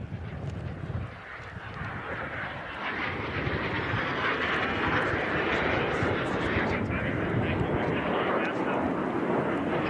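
A Cessna A-37 jet makes a low pass at an air show, a broad roaring rush of engine noise that swells and holds loud and steady, with crowd and announcer sounds mixed underneath.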